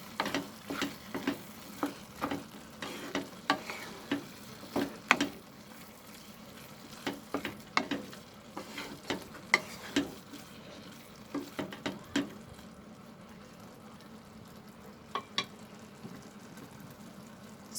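A spoon stirs soya keema seasoned with garam masala in a frying pan, making a steady run of close scraping clicks and taps over a soft sizzle, with a quieter stretch near the end.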